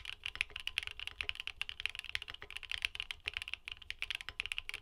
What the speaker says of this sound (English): Here's the sound test for the Mirandies.